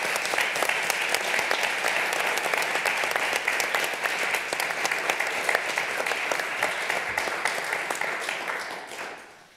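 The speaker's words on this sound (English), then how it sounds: "Give them a big applause." Sustained applause from a conference audience after a press freedom panel discussion, steady dense clapping filling the room for several seconds before fading out at the end.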